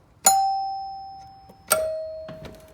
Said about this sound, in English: they might ring the bell